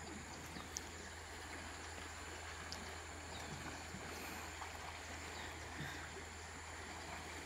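Steady, quiet rushing of the Rio Grande (Río Bravo) heard from its bank, with a constant low hum underneath, unbroken and even throughout.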